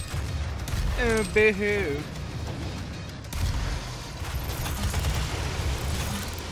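A rocket launcher fires in the Doom video game, with blasts and mechanical clanks amid a steady rumble of game noise, while a man makes a brief sarcastic remark over the action.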